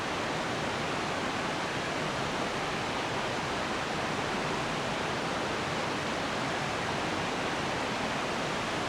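A waterfall cascades down through forest in the North Cascades National Park, a constant, full rushing roar of falling water with no breaks or other sounds.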